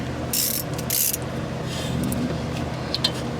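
A ratchet fitted with a 7mm Allen socket works on the brakes of a 2006 BMW 325i, giving two quick bursts of close, rapid clicking followed by lighter, scattered clicks.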